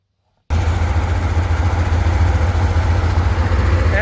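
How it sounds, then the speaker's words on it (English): A 1967 Chevy Corvair Monza engine starts abruptly and runs at a steady, fairly loud idle, a continuous low rumble close to the microphone after a brief moment of silence. "Let's see if we can get that footage of the engine running for you."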